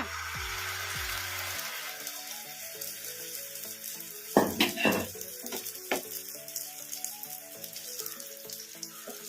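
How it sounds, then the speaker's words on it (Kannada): An egg and onion batter for omelet bonda hits hot oil on a pan. A steady frying hiss flares into a sharp, crackling burst midway, then settles into an uneven sizzle. "ಈಗ ಎಣ್ಣೆ ಕೂಡ ಬಿಸಿಯಾಗಿದೆ ಈಗ ಇದಕ್ಕೆ ನಾವು ರೆಡಿ ಮಾಡಿ ಇಟ್ಕೊಂಡಿದ್ವಲ್ಲ ತತ್ತಿನ ಉಳ್ಳಾಗಡ್ಡಿನ ಕಲಸಿಟ್ಕೊಂಡಿದ್ವಲ್ಲ ಈಗ ಇದನ್ನು ಈ ಹಂಚಿನ ಮೇಲೆ ಹಾಕ್ಬಿಡೋಣ"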